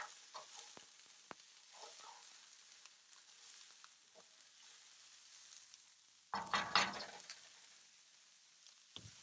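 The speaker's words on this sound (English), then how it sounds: "We'll want to saute these things until the carrots turn bright orange." Onion, celery and carrots sauté in a pan for a vegetarian moussaka, giving a faint, low sizzle with light stirring that swells into a brief louder hiss partway through; no one speaks.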